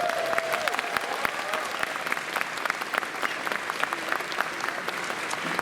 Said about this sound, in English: So a round of applause for all of you guys